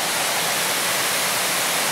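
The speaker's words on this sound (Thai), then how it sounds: "สายน้ำตกมันจะอ้อมเกาะเล็กๆเนี่ย" Mak Ngaew waterfall in Laos, its stream splitting around a small island: a steady, dense roar of falling and rushing water, loud and close, with no voices.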